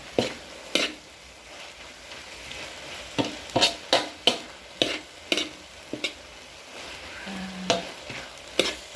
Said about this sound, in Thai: เราก็คั่วให้มันแห้งๆนะคะ ให้ให้น้ำมันแห้งค่ะ